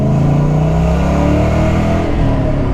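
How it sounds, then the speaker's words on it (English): A loud, deep V8 engine of a Mustang Cobra revs close by, its throaty rumble rising and falling in pitch without any talking. "this car sounds amazing"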